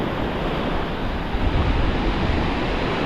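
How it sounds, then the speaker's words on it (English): Ocean surf breaking on a sandy beach at roughly half tide, a loud continuous roar of wash and spray with wind buffeting the microphone, swelling slightly midway, with no talking. "Hopefully the waves won't wash it in on the sand."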